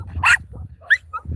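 Wendy, a small dog, gives squeaky, whimpering yips close by, a few short high cries within a second or so while big dogs play far off, over a low background rumble.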